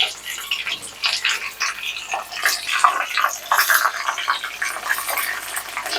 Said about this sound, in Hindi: तेल गरम हो चुका है, 10 पटल हम 2 बार में फ्राई कर लेंगे।